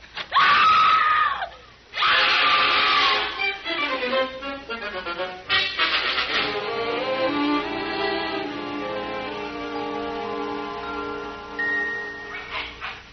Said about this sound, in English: when my wife sees me, she'll start screaming